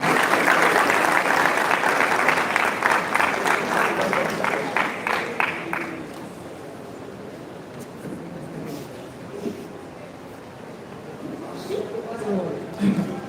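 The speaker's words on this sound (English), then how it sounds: "Ladies and gentlemen, a round of applause." An audience applauds a lecturer receiving an award at a ceremony, loud dense clapping for about six seconds that tapers into scattered claps and murmuring voices, with a person speaking afterward.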